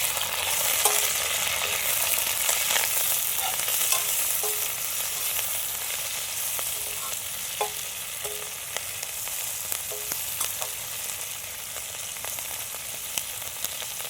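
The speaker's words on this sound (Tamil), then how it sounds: "ஒரு ஆறு வரமிளகா ரெண்டாக ரெண்டாக கீரி சேர்த்திக்கிறேன் அஞ்சு பத்து கருவேப்பிலை இதையே நல்லா வதக்கிக்கலாம்" Dried red chillies and curry leaves sauté in a pan for masala chicken noodles, giving a steady, close frying sizzle with light scraping and stirring ticks throughout and no talking.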